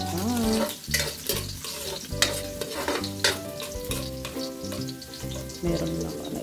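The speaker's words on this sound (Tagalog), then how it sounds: "Lagyan natin ang bawang. Haluin. Haluin ng haluin para maiwasan ang masunog." Chopped garlic sizzles and crackles in a hot pan while being stirred, with intermittent scraping strokes, heard under steady background music.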